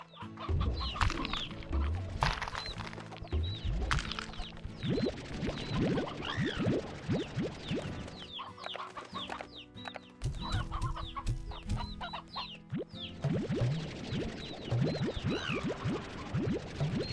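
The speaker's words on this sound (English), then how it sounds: "Another solo rooster." Rooster clucks and crows from the Cluckosaurus Rex fowl in the video game Slime Rancher 2, with repeated close, loud bursts running steadily over busy background game music and ambience, without talk.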